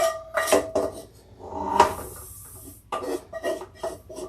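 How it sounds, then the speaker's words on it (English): Cooked potatoes are mixed with onions and mushrooms for pierogi filling, giving scraping, clinking utensil-against-bowl sounds in uneven bursts, close by, with a short louder scrape midway and no voices. "now I'm going to add in my onions and my mushroom to the potatoes and mix this all in"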